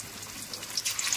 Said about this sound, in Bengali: এখন সিম করে দিলাম কারণ তেল ফুটছে ভীষণ